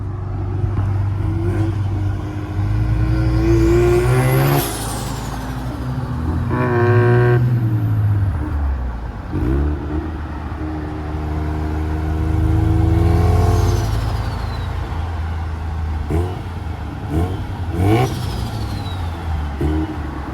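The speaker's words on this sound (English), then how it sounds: "He's gonna do a little pull of the new turbo sound." A turbocharged Mazda FC RX-7 with a custom single-exit exhaust revs hard and accelerates in several pulls, its rising whine sweeping upward, then dropping back between bursts.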